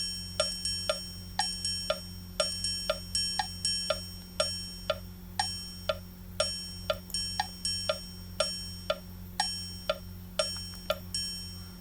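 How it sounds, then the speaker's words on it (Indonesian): A triangle rhythm pattern plays back from Sibelius notation software, bright metallic rings repeating in a steady pattern of single and paired strikes for about twelve seconds over a low constant hum, with no speech. "Kalau kita klik di bagian ini, bagian triangle sampai berwarna biru, kita play, maka bunyi pola ritmiknya adalah akan bunyi seperti ini."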